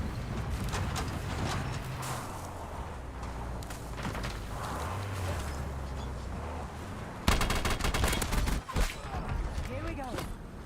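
Gunfire in the video game Call of Duty Black Ops Royale, with rapid bursts of shots and loud cracks close by, under an ongoing stream of game noise and a voice talking over it.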